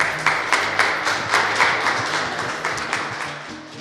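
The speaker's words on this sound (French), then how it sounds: "une main d'applaudissements pour nos artistes" A small group claps for a few seconds for performing artists at a silent auction, uneven and moderately loud, with no voices over the applause.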